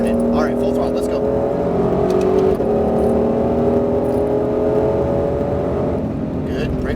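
Ford Mustang Shelby GT500 on the Las Vegas racetrack at Exotics Racing, engine droning steadily loud and near at full throttle throughout, with an instructor talking over it.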